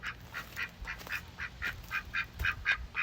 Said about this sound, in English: Just wanted to show you guys the ducks.